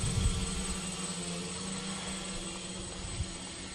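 A quadcopter drone hovers nearby with a constant buzzing whine of spinning propellers, steady and moderately loud for the whole stretch.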